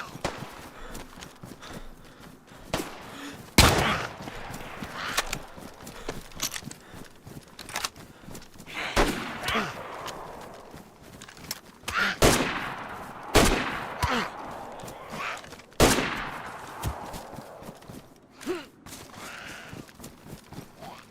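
Sharp gunshots ring out in the DayZ game on the Deer Isle map, several separate cracks spaced across the stretch, some close and loud, others farther off, with footsteps and ambient rustle between them.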